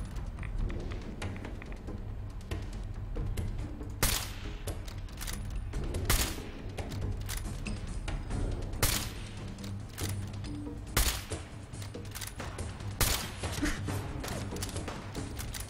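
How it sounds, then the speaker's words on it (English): Repeated gunshots in Fallout 4 during Automatron DLC combat, sharp irregular cracks every second or two over a steady low game background, fairly loud and close, with no talking. "Thought that last shot was on point."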